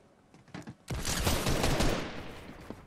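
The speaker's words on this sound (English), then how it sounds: "I'm literally destroying kids with this deagle" A Desert Eagle pistol in Fortnite fires a quick burst of loud, close shots, with a couple of lighter pops first and then a dense volley lasting about a second before it tails off.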